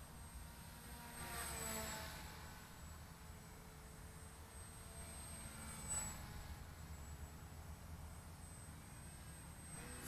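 Bixler radio-controlled model airplane flying overhead, a faint steady motor whine with gentle swells as it passes closer and farther, under a constant airy background hiss, no voices.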